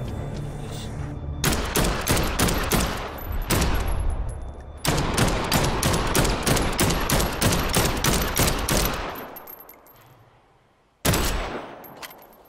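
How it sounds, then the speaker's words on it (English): Loud, rapid bursts of gunfire from a gun in the zombie game Dead Island 2, dense volleys with brief gaps, fading near the end before one more sharp shot, no clear talk over it. "You're saying this loud ass gun doesn't make zombies run?"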